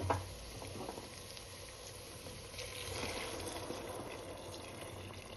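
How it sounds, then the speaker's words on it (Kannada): Boiling-hot water pouring into a pot of oily masala for a one-pot jackfruit and mushroom biryani, a soft, steady splashing trickle that stays faint and even throughout, with no voices. "ಈಗ ಸುಡು ನೀರು ಅಂದ್ರೆ ಕುದಿಯುವಂಥ ನೀರು 3 ಗ್ಲಾಸ್ ಹಾಕ್ಕೊಳ್ಳಿಕ್ಕತ್ತೀನಿ"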